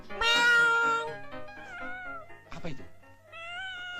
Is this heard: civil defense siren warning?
no